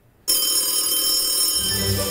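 A telephone rings to call a radio contest winner, a loud, sustained ringing tone that starts abruptly after a brief silence and holds steady with a low hum beneath it.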